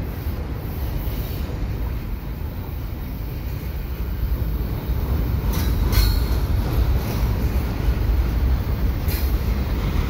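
A CP freight train led by two ES-44 locomotives passes at night, a continuous loud rumble of rolling wagons with faint high wheel squeals, steady throughout with no talking.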